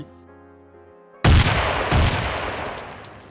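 A quiet tonal hum gives way to two sudden loud grenade blasts about half a second apart, followed by a rumbling, crackling roar of gunfire that slowly fades.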